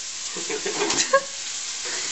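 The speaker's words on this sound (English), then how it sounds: "Over here we've got the garlic and the onion sort of cooking in here nicely" Garlic and onion frying in a pan give a steady, close sizzle and hiss throughout, with a brief clink or stir partway through.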